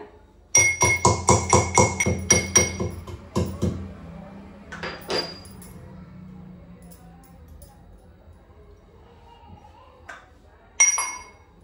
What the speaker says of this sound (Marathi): पॅन गरम होईपर्यंत आपण जायफळ आणि सुंठ खलबत्त्याच्या साहाय्याने बारीक करून घेऊया।